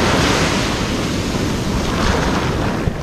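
Surf at Benaulim Beach, Goa, in the early morning rolls in as a steady, loud wash of breaking waves mixed with wind rumble on the microphone, continuous throughout with no voices.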